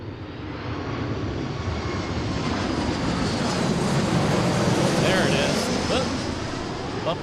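An airliner in Seattle Mariners livery arrives from Las Vegas at Seattle airport. A loud, broad jet engine roar swells and holds steady, close by, for several seconds.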